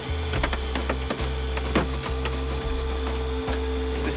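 A hydraulic spreader, the Jaws of Life, runs with a steady droning hum while its teeth open and close, broken by creaks and cracking snaps of material giving way, close and loud, with no talk.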